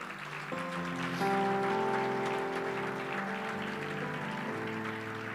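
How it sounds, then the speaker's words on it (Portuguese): Worshippers applaud during a Pentecost church service while sustained organ or keyboard chords ring out, the clapping a steady bed of noise under the held music throughout. "Quem pode dar um aplauso bem forte ao Senhor?"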